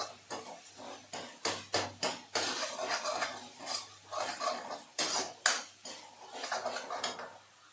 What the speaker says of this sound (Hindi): तो जी मसाला मेरा भून रहा है